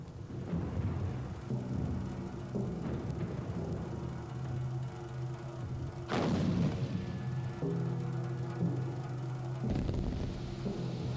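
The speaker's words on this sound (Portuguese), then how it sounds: "Por isso, o bombardeio prosseguiu." World War I artillery bombardment rendered as continuous deep booming and rumbling, with heavy blasts standing out near the middle and toward the end over a constant low roar.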